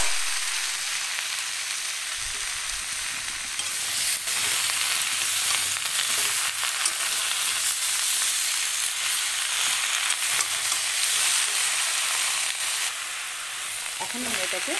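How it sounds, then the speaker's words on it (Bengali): Spinach hits a hot pan of spiced curry for a Bengali vegetarian spinach dish, giving a steady, loud sizzle and frying hiss with occasional stirring, continuous and close without talk. "এখন আমরা এর মধ্যে পালং শাকটা দিয়ে দেবো।"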